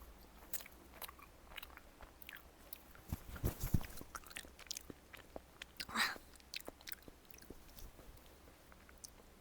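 Soft raw chocolate (nama chocolate) being bitten and chewed close up, with quiet moist squishes and a few crunchy bites grouped in the middle. Faint breaths sit under it, and there is no talking.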